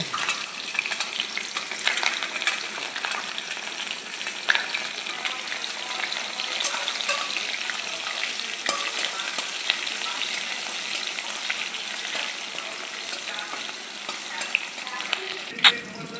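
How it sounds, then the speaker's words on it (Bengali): Chopped onion frying and being stirred in a pan for a chicken stew, with a steady close sizzle and intermittent scraping stirs throughout, no voices. "এরপর কেটে রাখা পেঁয়াজ দিয়ে একটু নাড়ানাড়ি করে নেব"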